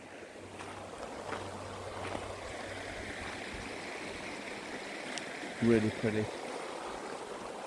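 Rapids tailing off on the Wye River beside a small pebble beach in the Wye Valley, a steady broadband rush of moving water that runs throughout, with someone speaking briefly over it near the end.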